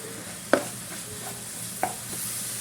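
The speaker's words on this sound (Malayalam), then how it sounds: "പഴം ഇട്ട് കൊടുത്തിട്ട് നല്ലോണം മിക്സ് ചെയ്ത് കൊടുക്കാം" Banana, jaggery and coconut filling stirred in a pan, a soft continuous hiss with two distinct spoon knocks against the pan, close and fairly quiet.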